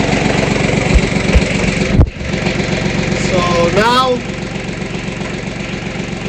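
A farm tractor idles steadily with a low, even rumble that runs the whole time, dipping briefly partway through, while someone talks over it.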